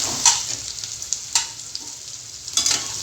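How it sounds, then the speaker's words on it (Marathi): Chopped onion, green chilli and curry leaves fry in hot oil for okra bhaji, a steady close sizzle broken by a few sharp stirring clicks of the spoon in the pan. "तेल तापलं आहे आणि मग आज आपण कांदा टाकला आहे मिरची टाकली आणि कढीपत्ता टाकला"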